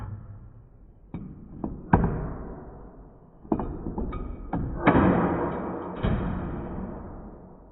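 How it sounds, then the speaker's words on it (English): A ratchet drops down into a car's engine bay during ignition coil work. Several metallic thuds and clattering knocks are spread over a few seconds, each fading quickly, close and fairly loud, with no talking. "My ratchet fell down in here"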